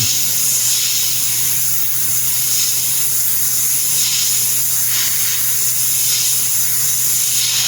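A spray gun sprays thinned solvent-based paint onto a quarter-scale He-Man figure, a steady close hiss running without pause and unaccompanied by speech.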